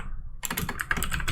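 Rapid typing on a computer keyboard, a dense run of close, crisp key clicks beginning after a brief quiet moment and continuing steadily.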